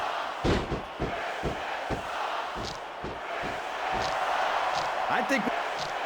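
A wrestling arena crowd in SmackDown vs Raw 2006 roars steadily during an Edge match, with a string of heavy thuds and slams punching through the noise and a commentator talking over it.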